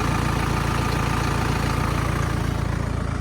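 A farm tractor engine idles nearby with a steady low, pulsing chug and no voices.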